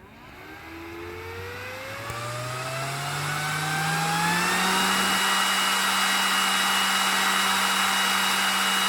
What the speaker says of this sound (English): Hopefully you can hear me over the fan.